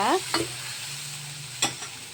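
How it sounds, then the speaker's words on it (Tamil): Vegetables sautéing in a pan for a fish and tofu soup, with a couple of brief stirring scrapes over a faint steady sizzle, close and fairly quiet. "கொஞ்ச நேரம் வதங்கினாலே போதும். இவங்கெல்லாம் வதங்கி வரட்டும்"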